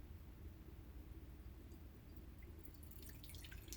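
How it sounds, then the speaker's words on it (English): A drink offering being poured out, giving a faint, steady trickle and splash of liquid with a few brighter drips near the end, and no talking. "here we have a drink offering that's being poured out"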